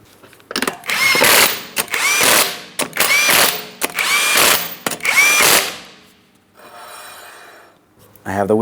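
An impact tool drives 19mm lug nuts onto the front wheel of a 2008–2016 Chrysler Town & Country, firing five loud whirring, rattling bursts close by, followed by a quieter stretch of mechanical noise.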